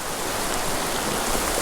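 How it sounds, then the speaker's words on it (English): Heavy rain pours steadily onto a river and its banks during a fly-fishing outing, a dense, even hiss of drops filling the scene with no voices. "rain is definitely coming down"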